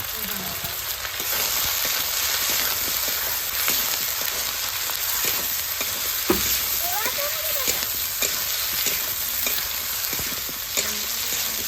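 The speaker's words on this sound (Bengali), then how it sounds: "আলু চলে গেল, এগুলো ভালো করে কষা হবে" Potatoes sautéing in a pan with a steady, bright sizzle, punctuated by frequent utensil scrapes and taps as they are stirred, close up.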